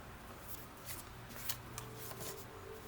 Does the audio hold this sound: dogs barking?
no